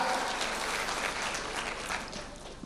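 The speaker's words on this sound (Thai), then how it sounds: "ขอเสียงปรบมือให้พี่จอยหน่อยครับ" A church congregation applauds a woman named Joy, a continuous, fairly loud spread of clapping from many hands, fading slightly toward the end.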